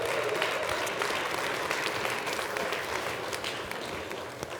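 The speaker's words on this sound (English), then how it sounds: "So let's give them a big round of applause." Audience at a winter mountaineering speaker event breaks into loud, sustained applause, a dense wash of clapping that holds steady and fades only slightly over several seconds.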